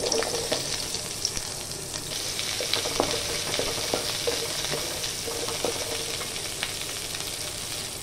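Fennel seeds and shallots fry in hot oil in a pan for a cauliflower pepper fry, giving a steady close sizzle with scattered pops and crackles and occasional stirring clinks throughout.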